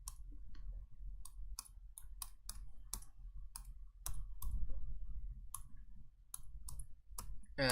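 Sharp, isolated mouse clicks while building in a game, irregular single and double taps spaced apart, close and crisp over a low background hum, no talking.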